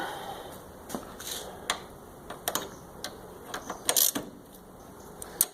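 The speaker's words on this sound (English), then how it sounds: "And we're going to undo this bolt" A socket wrench loosening a bolt on a Kawasaki Concours C10 fuel tank, quick ratcheting clicks and small metallic ticks in short bursts, close and fairly quiet.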